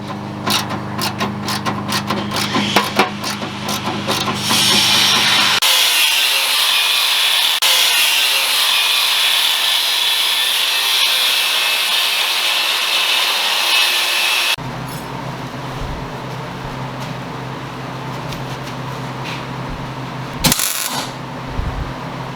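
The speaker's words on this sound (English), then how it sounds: "We are drilling and mounting this right now." Holes being drilled to mount a box on a GeoPro 12RK teardrop camper trailer: clattering tool noise at first, then a long, loud, steady whirring stretch, followed by a lower continuous run with a brief burst near the end.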